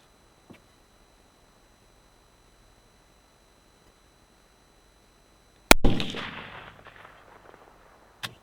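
A single 6.8 Western rifle shot firing a 175 grain bullet during velocity testing, a sudden loud crack with a long fading echo, preceded and followed by a faint click in otherwise quiet surroundings.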